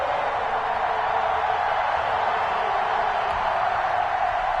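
Stadium crowd at an NFL game between the Denver Broncos and Kansas City Chiefs, a steady, dense roar of many voices with no distinct peaks, continuous throughout.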